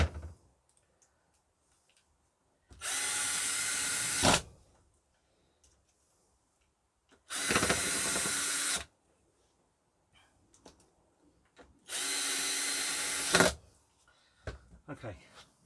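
A power drill on its lowest setting drives screws into caravan carpet in three separate bursts of steady whirring, each lasting about one and a half seconds, with quiet gaps between them.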